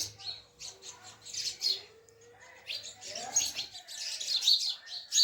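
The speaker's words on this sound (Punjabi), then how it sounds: "ਆ ਦੇਖੋ ਜੀ ਚਿੜੀਆਂ" Sparrows chirp and tweet in a village, a busy run of bright, overlapping calls that swell and fade at close range, with a low hum in the background for the first few seconds.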